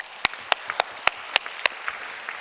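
Church congregation clapping in a Korean worship service, a hall of hands striking in a loose rhythm of sharp, evenly spaced loud claps over a softer wash of scattered applause.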